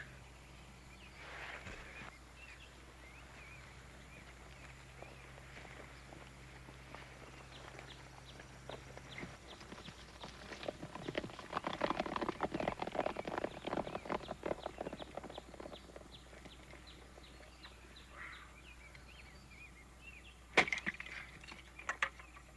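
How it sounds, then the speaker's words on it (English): Horses ride away in a 1966 Daniel Boone frontier drama, their hooves clip-clopping faintly at first, swelling into a louder cluster of rapid hoofbeats mid-way, then thinning out, with a couple of sharp knocks near the end. "Now get on your horses and get out of here."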